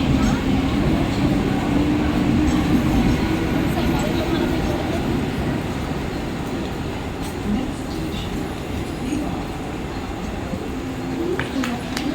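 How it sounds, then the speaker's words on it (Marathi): A Mumbai suburban slow local train bound for Kalyan rumbles steadily alongside platform 1 at night, its heavy, continuous noise easing slightly over time, with faint background voices. "प्लेटफॉर्म क्रमांक 1 पर आई ही लोकल 8:29 कल्याण जाने वाली धीमी लोकल है।"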